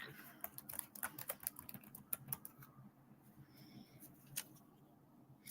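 Someone types a chat message on a computer keyboard, quick light key clicks in uneven bursts that thin out partway through, with soft room noise beneath.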